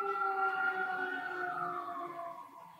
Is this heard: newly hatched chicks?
no